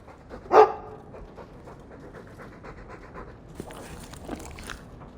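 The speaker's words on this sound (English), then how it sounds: "My own living, breathing, slobbering status symbol." A Mabari war dog in the Dragon Age 2 video game gives one brief loud huff, then pants quietly and steadily, with a short burst of other sounds near the end.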